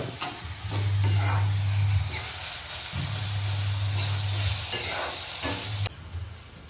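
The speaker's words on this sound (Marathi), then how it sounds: "टोमॅटोची मस्त अशी स्मॅश केली मसाले पण ॲड करा हो थोडंसं परतून घेऊया" Smashed tomato gravy with added masala sizzles and hisses in a pan as it is stirred for a cashew curry, a loud continuous frying texture with a low rumble that cuts off near the end.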